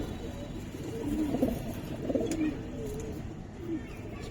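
Pigeons in a market pen give soft, low cooing calls in a few short bursts over a steady murmur of background noise and distant chatter.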